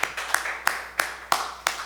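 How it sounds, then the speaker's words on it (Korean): Church congregation clapping for an elder's birthday: six sharp, evenly spaced claps about a third of a second apart, moderately loud and close, with no talking. "생일 축하 박수 한번."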